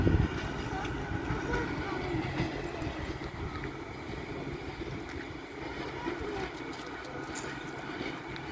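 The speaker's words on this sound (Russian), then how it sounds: "Электричка остановится." An electric commuter train pulls in and slows to a stop at a platform, a steady low rumble with faint rail clatter continuing throughout, heard at moderate distance.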